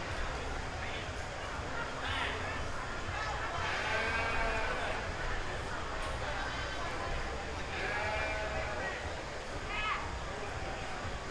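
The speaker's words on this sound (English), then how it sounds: "going to come in now with Elizabeth McCullum weighing an 88-pound goat" A goat bleats repeatedly at a 4-H livestock show and fair sale, with wavering calls rising out of a busy crowd and announcer chatter that runs throughout.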